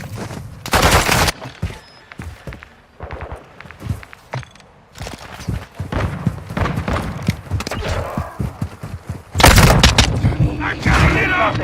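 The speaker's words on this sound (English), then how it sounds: "Taking effective fire!" Bursts of automatic gunfire and scattered shots crack through a video game firefight, loud and close, with sharp heavy volleys at the start and again near the end and thuds and movement between them.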